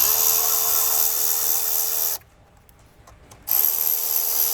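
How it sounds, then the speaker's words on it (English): A power tool with an E8 inverted Torx socket drives the oil cooler bolts back down on a Jeep Cherokee Pentastar V6. It runs as a steady close whir, cuts out for about a second, then whirs again. "we'll use that same E8 Torx or inverted Torx to get that tightened back down"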